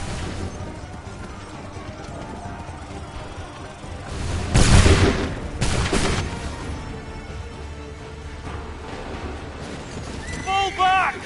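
Musket volley gunfire in the Assassin's Creed 3 video game: a loud burst of overlapping shots that rings out and then fades, with shouted voices and other battle noise around it.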